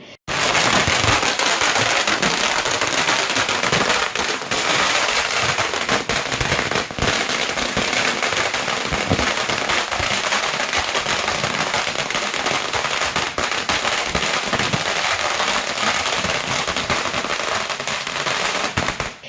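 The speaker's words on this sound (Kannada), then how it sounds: "ಪಟಾಕಿ ಸಿಡಿಸಿ ಸಿಹಿ ಹಂಚಿ ಮೋದಿ ಭಾವಚಿತ್ರಕ್ಕೆ ಹಾಲಿನ ಅಭಿಷೇಕ ಮಾಡಿ ಆಚರಣೆ" Firecrackers set off by party workers at an election victory celebration in Thyamagondlu burst in a loud, dense, nonstop crackling barrage close by, with rapid overlapping pops filling the entire span.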